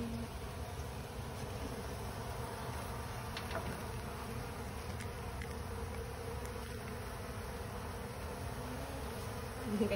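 Bees hum in a steady, continuous drone during a bee rescue, close and even throughout, with no voices heard.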